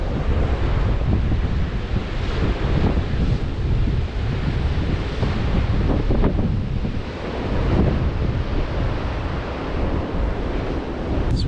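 Ocean waves roll and break continuously at Joanna Beach, where forest meets the sea, with strong wind buffeting the microphone in a loud, steady roar.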